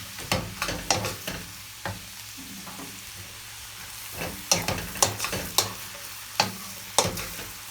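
Chinese bacon and early-spring greens stir-fried in oil, a steady sizzle broken by sharp, irregular clanks and scrapes of a spatula against the wok, with several louder strikes clustered toward the end.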